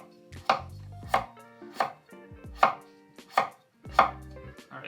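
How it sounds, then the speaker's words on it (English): A knife slicing cucumber very thinly on a cutting board, six sharp, evenly spaced chops, each a crisp close knock on the board, with quiet gaps between and no talking. "we're gonna cut very thin slices out of them"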